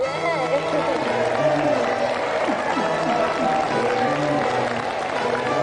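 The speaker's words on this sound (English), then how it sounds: "So that's another round of applause for our two special guests" Studio audience applause for two guests on a TV game show: steady, dense clapping from a crowd, with a presenter talking over it throughout.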